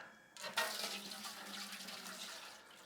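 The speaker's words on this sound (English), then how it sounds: "we'll put a little water in there" Tap water runs steadily into a cooking pot for boiling sweet corn, a continuous splashing stream that begins abruptly and carries on at moderate loudness until the clip ends.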